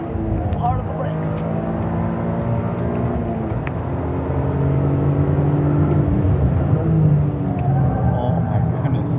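A Toyota GR Corolla race car's engine roars steadily on track, easing off under hard braking then surging as it accelerates, with excited voices talking over the continuous motor noise.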